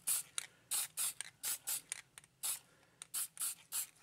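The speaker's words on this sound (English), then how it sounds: "So we're just going to give them a nice little spritz here." Short hissing bursts of spray paint misting a coat onto model car tires for a Tamiya 1/20 McLaren M23, about a dozen quick, close puffs in an uneven rhythm, with no talking.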